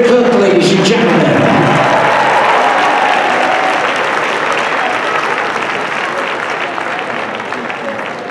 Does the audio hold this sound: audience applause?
yes